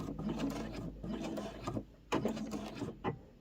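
A sewing machine stitches the fabric of a cross-body sling bag in short mechanical bursts with brief pauses, close and fairly quiet.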